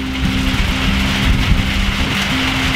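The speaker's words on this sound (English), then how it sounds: "So the monsoon rains are here." Heavy monsoon rain pours down, a dense, continuous hiss of drops on surfaces, close and loud, with a faint low tone running underneath.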